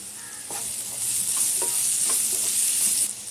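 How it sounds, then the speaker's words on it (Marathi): Stuffed matar puri fries in a covered pan over a medium flame, a soft steady sizzle with a few light taps and scrapes, quiet and close, with no talking. "आता आपल्याला हे चांगले 5 मिनिटं फ्राय करून झाकण ठेवून फ्राय करायची आहे."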